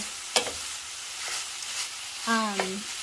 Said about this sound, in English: pulling the sausage apart like that makes it so much easier